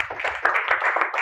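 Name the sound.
applause, clapping hands for Jesus in a church service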